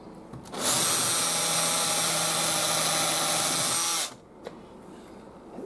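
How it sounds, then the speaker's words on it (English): A power drill bores into a part of a Radiola 20 radio during restoration, one steady, loud, high-pitched whine lasting about three and a half seconds before stopping abruptly, followed by a short click. "I'm going to have to try to drill them."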